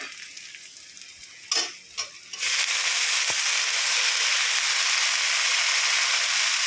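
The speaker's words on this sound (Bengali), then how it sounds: "শাকটা দিয়ে দিলাম, দিয়ে একটু নাড়াচাড়া করে নেব।" A few clattering scrapes, then a loud steady sizzle as leafy greens are tossed into hot oil with fried onions and keep frying in a pan.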